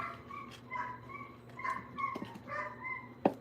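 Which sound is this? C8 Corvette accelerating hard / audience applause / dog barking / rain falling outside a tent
dog barking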